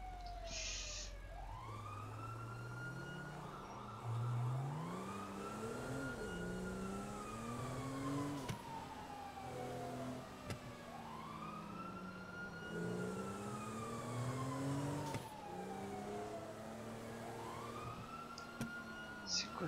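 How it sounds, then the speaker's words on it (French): A wailing siren sweeps up and down in long, repeating cycles, loud and continuous throughout with no pause. "Cette sirène hurlante qui cesse pas quoi."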